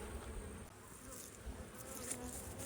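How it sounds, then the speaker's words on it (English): Honey bees buzzing steadily in an open hive box during an inspection, a dense continuous hum close by with no talking. "We'll look down here, just see what we see. A lot of bees."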